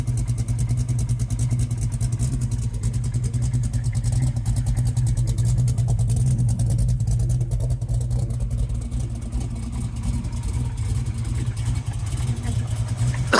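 A 1969 Chevrolet Camaro's 454 V8 with solid lifters idles steadily, a deep rumble under a fast, even ticking clatter, close and continuous throughout.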